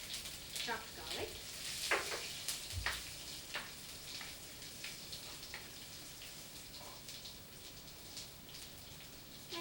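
Chopped garlic sizzles in oil in a pan after cumin seeds, for an Indian-style grilled potato sandwich; a soft, steady crackle with scattered small pops, fairly faint throughout.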